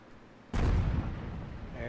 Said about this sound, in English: There's artillery fire coming in.